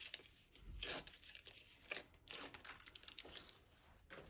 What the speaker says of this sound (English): So again, we'll just peel the backs off these here.